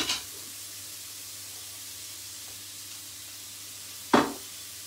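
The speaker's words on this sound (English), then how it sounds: "we're just going to continue to fry those off" Onions frying in a pan for a one-pot citrus spice chicken and rice dish give a steady, soft sizzle throughout, with a couple of brief louder scrapes or stirs near the start and end.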